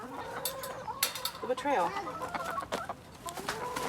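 Chickens cluck and squawk close by in a backyard chicken yard, with a person talking over them throughout.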